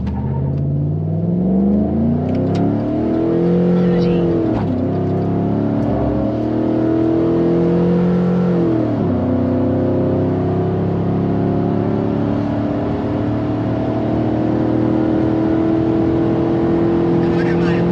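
5.3L truck launching hard on a quarter-mile drag run, engine revving high and climbing through several rising gear pulls before holding a loud steady drone, heard from inside the cab.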